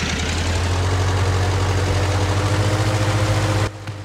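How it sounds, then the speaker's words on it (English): A John Deere Gator utility vehicle engine in the Farming Simulator video game runs at a steady, loud, low drone for several seconds before abruptly cutting out near the end. "I'm gonna be quiet so you guys can actually hear the engine sounds"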